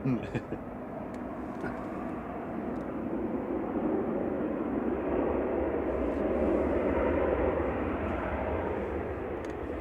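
A Ryanair jet from Dublin, operated by Malta Air, rumbles at Manchester Airport in a broad steady roar that swells and holds for several seconds, with a voice talking over it.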